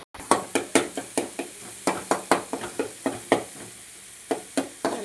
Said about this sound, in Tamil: இப்போ வெங்காயம் தக்காளியும் நல்லா வதக்கி விட்டுக்கலாம்.